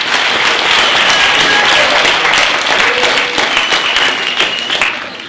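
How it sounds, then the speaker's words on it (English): An audience applauds loudly at a university STEM festival closing ceremony, sustained dense clapping that tapers slightly toward the end. "Let's give everybody a round of applause"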